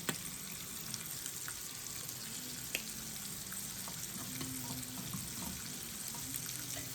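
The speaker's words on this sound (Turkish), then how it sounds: "Önce şu ahtapot bacakları kızartayım aradan çıksın da" Quiet, steady sizzling of octopus legs frying in hot oil, with occasional soft pops and crackles and no voices.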